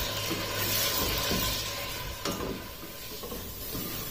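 Potato pieces fry in hot oil, giving a steady, close sizzling hiss throughout, with faint scrapes of stirring now and then.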